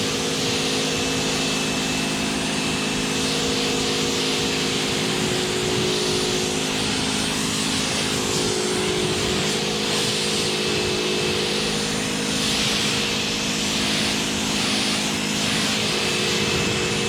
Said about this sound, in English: Let's rinse it off.